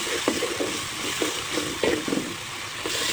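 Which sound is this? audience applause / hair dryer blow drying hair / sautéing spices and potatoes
sautéing spices and potatoes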